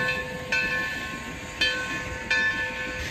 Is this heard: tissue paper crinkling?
no